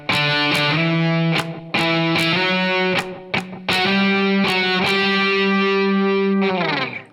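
Distorted electric guitar plays part of the solo from a song: loud sustained bends and slides, picked notes, and a held final note, with no talking.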